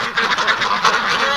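Dirty white ducks in a barn quack continuously, a dense, loud, close chorus of overlapping nasal calls with no pauses.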